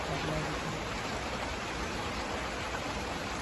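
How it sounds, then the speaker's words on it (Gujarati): Heavy rain pours steadily, a dense unbroken hiss of falling water without pauses. "બહાર વરસાદ બહુ ચાલુ"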